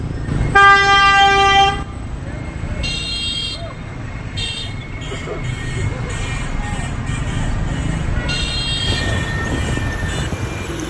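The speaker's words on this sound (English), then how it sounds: "Why do Vietnamese people honk so much?" Vehicle horns honk in busy Vietnamese street traffic: a long, loud blaring horn at the start, then several shorter toots over a steady rumble of engines and road noise.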